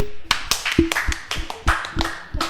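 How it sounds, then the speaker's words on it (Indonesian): A scattered round of hand clapping from an audience at a talk or seminar, with sharp, uneven claps coming in loose clusters over a couple of seconds and no talking. "Tepuk tangan aja."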